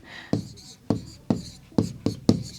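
Chalk marks out a multiplication on a classroom board in a series of six crisp, close taps and short scrapes, each stroke landing at a fairly steady pace with brief gaps between.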